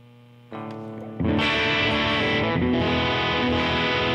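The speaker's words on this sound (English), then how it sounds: "Can we get a distortion pedal?" An electric guitar is played through a distortion pedal into a Fender Deluxe Reverb-style amp, first a soft sustained chord, then a louder crunchy note, and finally a thick, fully distorted held chord ringing out loud.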